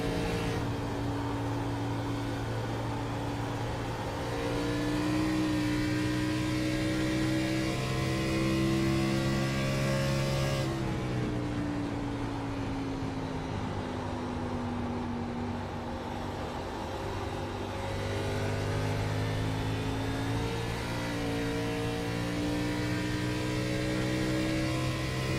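A race car engine drones steadily from onboard during a lap of an oval short-track race, its pitch rising and falling as the driver lifts through the corners and accelerates down the straights, loud and continuous with no talking.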